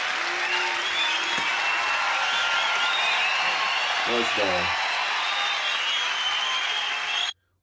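Loud, dense audience applause rolls on steadily in a live stand-up comedy recording, with a voice speaking briefly over it before it cuts off abruptly.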